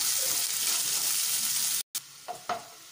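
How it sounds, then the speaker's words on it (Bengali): Chopped onion frying in hot oil with a pinch of salt for a chicken curry sizzles loudly and close, then drops out briefly and returns quieter with a couple of stirring knocks. "পেঁয়াজটা তাড়াতাড়ি নরম হয়ে ভাজা হয়ে যাবে"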